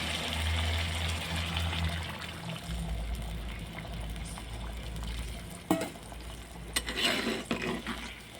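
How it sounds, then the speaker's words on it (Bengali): Hot water poured into a pot of browned mutton curry: a low rushing pour that settles into bubbling and simmering, with a couple of sharper clinks and stirring knocks near the end. "গরম জলটা আমি মাংসে দিয়ে দিচ্ছি।"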